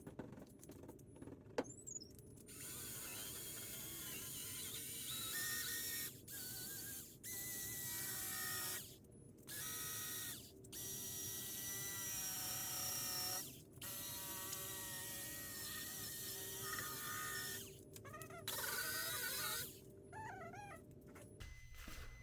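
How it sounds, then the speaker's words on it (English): A small car polisher whirs against Ford F150 paint in several sustained buzzing passes, close and steady, broken by short pauses where the machine stops. "starting off with the smaller polisher, there's some spots I just want to touch before I do the full coverage"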